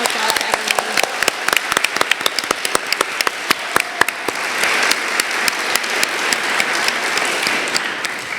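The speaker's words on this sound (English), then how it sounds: "So a huge round of applause to everyone." Audience applause at a campus gathering: dense, steady clapping from a crowd that starts with distinct sharp claps and swells into a continuous roar for about eight seconds, with no voices on top.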